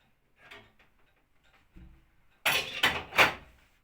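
A pipe profile bender cranked round with an old drill bit, giving faint ticking at first, then a few loud, close metallic clanks and rattles near the end.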